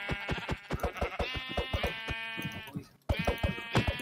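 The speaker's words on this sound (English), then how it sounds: "I forgot how fucking derpy the sheep are." Sheep from the Minecraft video game bleat loudly and close in a quick run of wavering calls, with a short gap before a final burst, and no talking.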